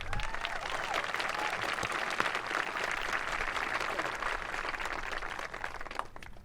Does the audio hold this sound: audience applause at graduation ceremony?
yes